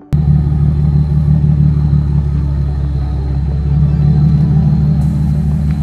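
Nissan 370Z with a Flashark catback exhaust producing a loud, steady deep exhaust rumble, holding constant with a slight swell in revs near the end, heard alone without talk.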